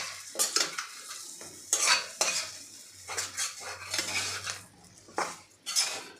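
A pan of stuffed eggplant with masala and sesame is stirred, with a spoon repeatedly scraping and clinking against the metal over a low, soft sizzle. The strokes come in irregular bursts, close and fairly quiet.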